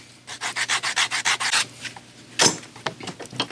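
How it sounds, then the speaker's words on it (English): A round sander works the edges of a leather pancake knife sheath, first in about ten quick, even rubbing strokes, then in a few sharper, irregular scrapes after a short pause, close and alone. "So I'm going to go ahead and catch those with a round sander."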